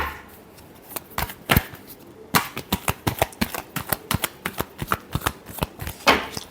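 Playing cards being shuffled by hand, a soft riffle followed by a run of sharp, irregular snapping flicks and taps, close and fairly loud.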